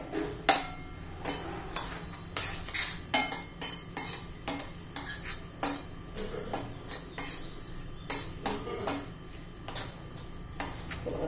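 Thalipeeth dough ingredients with coriander and spice powder are stirred in a bowl, giving a spoon's steady rhythmic clinks and scrapes against the bowl, close and repeated, with no talking.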